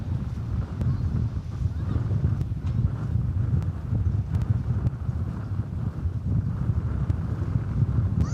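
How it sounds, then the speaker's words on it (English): Wind blows across an open airfield at DFW, a low, rumbling, buffeting rush against the microphone that stays fairly steady with small gusts and no other clear sounds. "To illustrate to you the wind."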